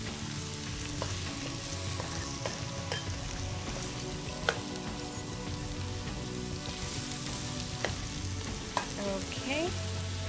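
Peas sizzle and fry in a pan while being stirred, a steady crackling hiss with occasional scraping clicks of the utensil, close and moderately loud, no voices.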